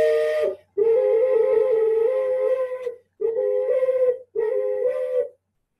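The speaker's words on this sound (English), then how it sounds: "This is a double whistle, flute or double whistle." A breathy two-toned whistle sounds in four sustained blasts separated by short pauses, clear and close.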